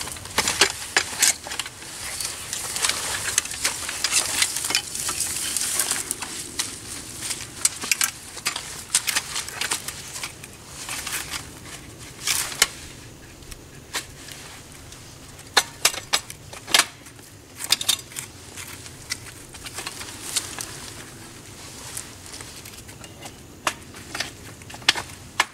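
Metal hunting treestand having its top part taken off, a run of close clanks, scrapes and rattling knocks, irregular and busy, with no talk over it.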